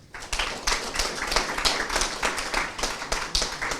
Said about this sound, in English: I think we deserve a clap.